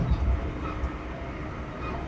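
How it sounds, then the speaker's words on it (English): A train rolls on rails northward across flat, snowy tundra, giving a steady, close, low rumble with no distinct clicks standing out. "The train continues through the tundra. The click-clack continues."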